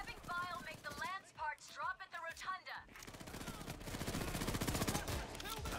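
Rapid automatic gunfire during a Payday 3 heist, a steady rattling stream of shots that takes over after someone talks over a quieter stretch.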